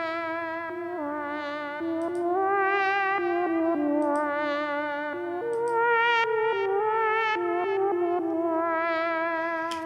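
A FabFilter Volcano 3 filter plugin is pushed hard into distortion on a melodic synth line. Gritty, buzzing sustained notes step up and down in pitch, with echoing tails, continuous and alone.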